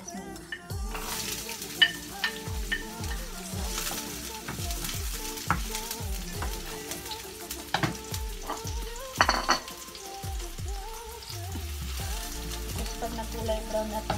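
Onions fry in hot oil in a home kitchen, a continuous close sizzle punctuated by rhythmic low thumps and clinks of a utensil stirring against the pan.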